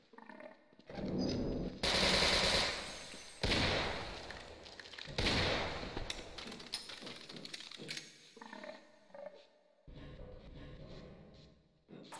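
Loud, dense bursts of rapid gunfire in the co-op shooter Sven Co-op during a fight with military soldiers, with heavy volleys and mechanical clatter packed close together and brief lulls between them.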